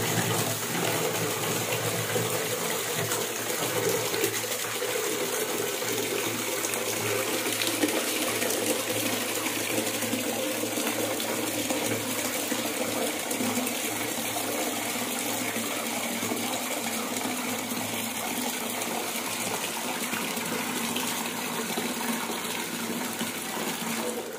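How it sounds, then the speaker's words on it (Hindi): Water pours steadily into an empty bucket, a constant loud gushing rush like a running tap that holds unchanged for the whole span with no voices. "हमारी बल्टी खाली है इसमें कुछ लगा नहीं है और हम आपको दिखाते हैं जादुई पानी पानी को भरने का इंतजार कीजिए"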